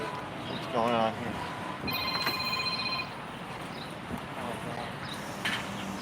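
A phone rings with a bright electronic tone, two short bursts standing out over a busy New York City street outside a museum, with traffic hum and voices around it.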